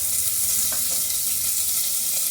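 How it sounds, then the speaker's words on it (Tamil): Onion, green chili and curry leaves sautéing in oil for sorakkai kootu, a loud dense continuous sizzle with faint stirring scrapes underneath and no talking. "எல்லாத்தையும் போட்டு வதக்குங்க."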